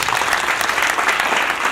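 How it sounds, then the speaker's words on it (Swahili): A church congregation claps hands together at a thanksgiving service, a dense, sustained burst of applause filling the room for under two seconds. "Tupigie Yesu makofi."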